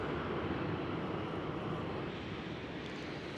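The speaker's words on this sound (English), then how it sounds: "Right here, the Iceland Air 737 MAX, who just arrived on runway 27." Icelandair Boeing 737 MAX arriving on runway 27 at Amsterdam Schiphol, a steady broadband jet roar heard from a distance, constant in level throughout with no voices.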